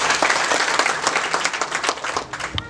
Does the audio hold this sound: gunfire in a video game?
no